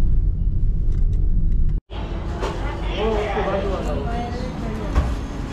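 Weekend road traffic in Latur, a steady rumble of cars and other vehicles passing close by, broken by a brief dropout, while someone talks over it throughout.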